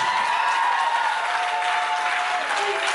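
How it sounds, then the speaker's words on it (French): A crowd at a civil wedding ceremony applauds, with loud, dense, sustained clapping throughout. "Applaudissez."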